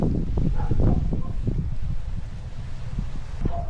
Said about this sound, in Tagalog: maingay din yung hangin